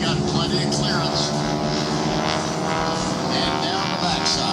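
Propeller aerobatic airplanes of the Aeroshell Aerobatic Team fly close by at a 2022 airshow in Vidalia, Georgia, producing a loud, steady, broad engine roar that fills the whole clip.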